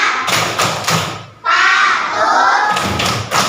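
A class of children in an Indonesian classroom performing the 'tepuk orang tua' clapping chant, with bursts of rhythmic clapping and thumps around a loud group shout, close and lively.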